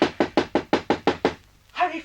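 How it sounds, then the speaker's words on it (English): Eight quick, firm knocks on a door in an even, hurried rhythm, close and loud, followed after a short pause by a voice speaking. "Hurry, Frankie, open the door"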